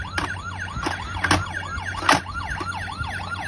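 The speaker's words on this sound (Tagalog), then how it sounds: "So, ito yung wang-wang niya." Toy police car, a Tommy Hyper blue model, sounding its electronic wail siren in a steady rising-and-falling cycle, loud and close, with a few clicks from the toy.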